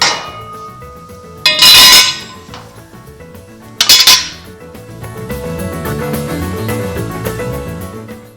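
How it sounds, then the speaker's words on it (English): Two sharp, loud metallic clangs ring out while rivets are removed from a 1940 Ford truck frame, each decaying with a lingering ring, followed by softer tonal metallic resonance and clinks. "Take out some rivets, pop that thing out of there."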